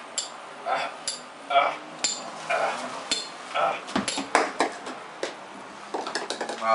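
Clanking metallic hits from a hammer-and-nail attack in a video game, a quick irregular series of sharp clinks and knocks, some bunched into rapid flurries, with game effects underneath.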